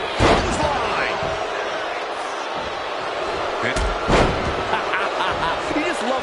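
Clotheslines and slams in the wrestling game WWE 2K25, a few sharp, loud impacts cracking over crowd noise, with a commentator talking throughout.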